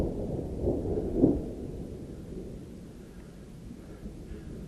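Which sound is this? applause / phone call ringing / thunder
thunder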